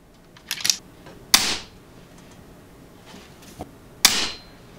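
An ATI Nova Liberty air rifle fires during a shot string test off the regulator, with three sharp, close cracks spaced over a few seconds amid lighter clicks and handling.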